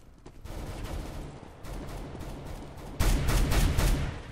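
Gunfire from the Counter-Strike Global Offensive video game: dense bursts of automatic shots crackle steadily throughout, building to a louder, heavier volley near the end.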